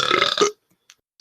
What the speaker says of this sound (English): Was that just one of you, or both of you can burp like that?